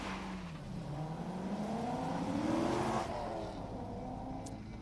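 A race car circles the track at Daytona during a solo autocross-style timed run, its engine note climbing and falling steadily as it accelerates past, loud and fairly close throughout with no voices.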